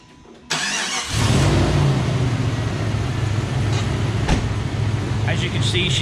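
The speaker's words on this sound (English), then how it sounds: "As you can see, she cranks right up. Engine purrs." A 1995 Jeep Grand Cherokee ZJ in good condition cranks briefly and fires up, then settles into a steady, smooth idle that stays close and loud to the end.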